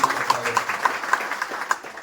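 An audience at a political rally claps in a short burst, a loose, fairly close patter of hands lasting about two seconds with a faint voice in the background.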